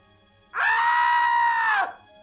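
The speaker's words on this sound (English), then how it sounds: "A shriek snapped Santa out of his slumber" A single loud, high-pitched shriek from the North Pole on Christmas Eve, held steady for over a second before cutting off, heard alone.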